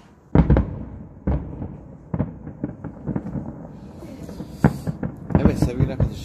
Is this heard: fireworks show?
yes